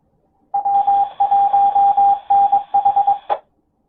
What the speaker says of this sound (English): There's the ID on the W1NH repeater